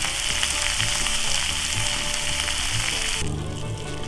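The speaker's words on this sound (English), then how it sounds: "Listen to that sizzle and pop." Steady, loud sizzling of food frying in a pan, a dense crackling hiss with occasional pops, continuing throughout.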